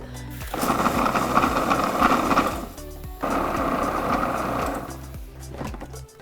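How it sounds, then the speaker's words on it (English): A food processor pulses oats into flour in two loud grinding bursts of about two and a half seconds each, with a short pause between them, heard up close with no voices. "So first we're gonna add the oats to the food processor, and I wanna pulse this so it's more like a flour-like consistency."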